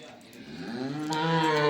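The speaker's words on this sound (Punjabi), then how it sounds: "ਸਾਹਮਣੇ ਜਿਹੜੀ ਤੁਸੀਂ ਮੱਝ ਦੇਖ ਰਹੇ ਹੋ" A female dairy buffalo gives a long, low moo that swells louder toward the end, close by at a breeder's farm with no talking over it.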